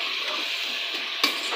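Medium-cut potatoes frying in a pan give a steady close sizzle, broken by a single clink of a utensil near the end, with no talk.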